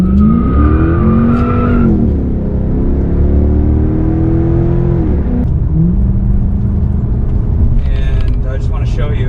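Lexus GS sedan (GS300/GS400/GS430 family) with modified front suspension being driven hard through corners, its engine note rising and falling while a high tire squeal keeps returning, loud and close throughout.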